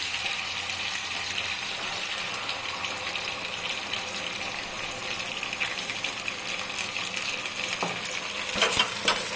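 Hilsa frying in a pan as poppy seed paste goes in for a yogurt-poppy seed curry: a steady, fairly close sizzle with light stirring scrapes and a few sharper clatters near the end, no talking.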